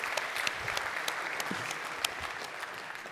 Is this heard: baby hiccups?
no